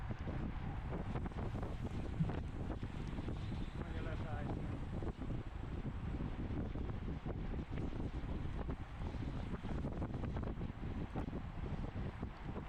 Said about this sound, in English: I can feel a little bit of wind like actually on my face.